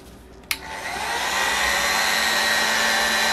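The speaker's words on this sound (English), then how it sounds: "So let me heat this case up a bit." A hot air tool clicks on and rises into a steady, loud whooshing blow, heating an OS FS-91 model engine case for bearing installation, close and running alone.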